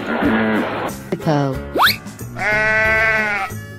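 Cartoonish sheep bleats from an animal painting and crossing game, a clear wavering baa standing alone after a short burst of other game animal calls, close and fairly loud.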